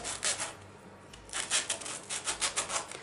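A knife saws through a crusty homemade baguette, rough rasping strokes repeating in a steady rhythm, close and fairly quiet with no talking.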